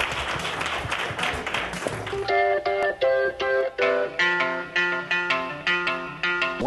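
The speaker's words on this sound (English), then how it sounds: "Give everyone a round of applause" A round of applause rises and then gives way to music with a steady rhythmic beat, with the clapping fading under it.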